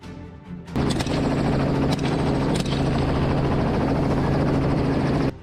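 A helicopter on an aerial pig hunt in Australia roars in abruptly and keeps up a loud, steady rotor thrum until it cuts off near the end.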